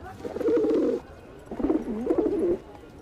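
Pigeons cooing close by: two distinct rolling, throaty coo phrases separated by a short pause, clear and alone with little else around them.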